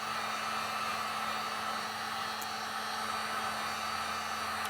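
An inexpensive heat gun blows a steady, loud, unbroken whoosh with a constant whine underneath while reheating milk jug plastic, alone and close.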